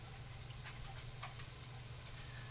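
Onions soften in a pan with a faint, steady sizzle and a few light clicks of stirring, quiet and continuous with no talk.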